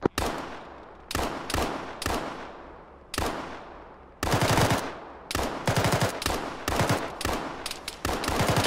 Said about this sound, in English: Shots west.